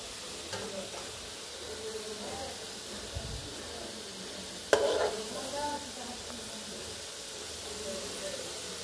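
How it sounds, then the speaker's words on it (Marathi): Shengole, a dough snack, deep-fry in oil with a soft, low bubbling hiss, broken by a sharp clatter midway and some brief stirring noises. "हे बघा, आता हे शेंगोळे तळून घ्यायले"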